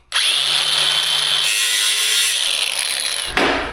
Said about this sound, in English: so we're just gonna cut it with the angle grinder